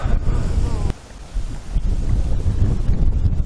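Gusty wind at a lagoon on the Murray River during carp fishing, buffeting the microphone in strong rumbling bursts with a brief lull near the start.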